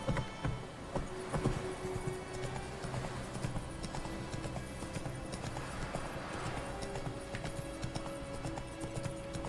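The horse Roach trots in the video game The Witcher 3: Wild Hunt, with steady, close clip-clop hoofbeats running continuously over soft outdoor ambience and no voices.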